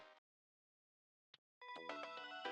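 Phone mail notification ringtone, an anime-themed alert: a short tonal beep, a faint click, then a bright melodic chime phrase lasting about a second, clear and close with no talk.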